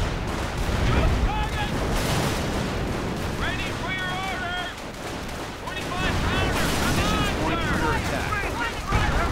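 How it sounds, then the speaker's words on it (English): Artillery fire from Hummel self-propelled guns in a World War II strategy game, heavy booming blasts rumbling under a busy battle soundscape with whistling shells, continuous gunfire and faint voices. "Artillery going in from the Hummels."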